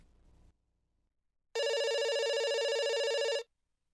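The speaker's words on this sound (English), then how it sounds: "you could use an old-fashioned innovation such as a rotary telephone to call your friends" An old rotary telephone rings once, a single loud, sustained metallic bell trill of about two seconds that cuts off abruptly, heard alone after a short low rumble and silence.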